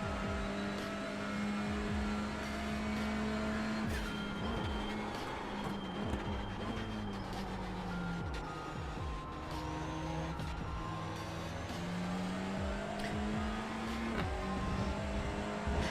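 A TCR touring car runs a lap of Motorsport Arena Oschersleben in iRacing, its engine steady and loud, climbing through the revs and dropping sharply at each upshift and braking zone, repeated cycles with no talk.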